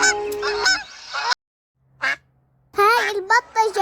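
Geese at a bird garden honk loudly and close by in several nasal bursts, with a person speaking between the calls.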